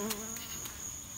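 Honey bees buzz continuously during removal of a hive, a dense steady droning swarm sound close by with no talking.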